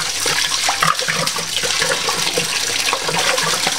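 Honey rum wash, about 14 litres, pours into a Grainfather G40 still, making a loud, steady rush of splashing liquid throughout with no talking.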